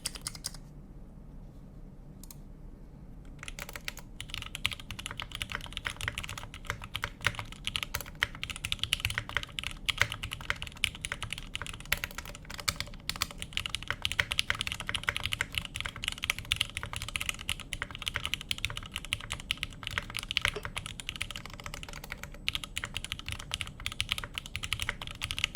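Mechanical keyboard with Thok switches and PBT keycaps being typed on, a quiet start giving way to a continuous stream of soft, thocky keystrokes at a steady, fairly fast pace, close and alone.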